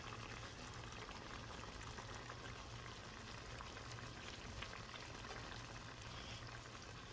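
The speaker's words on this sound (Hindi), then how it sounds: "ये इस तरह हल्के हल्के पकता रहेगा" A spiced meat curry simmers gently in a pot, giving a faint, steady bubbling and hiss that stays even throughout. No one speaks.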